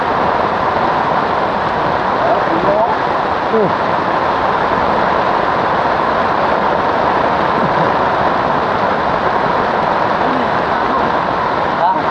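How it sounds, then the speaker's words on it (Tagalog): Heavy rain pours steadily onto a tarp, a dense, constant hiss and patter with no letup, while voices speak faintly underneath. "Lumakas na ang ulan."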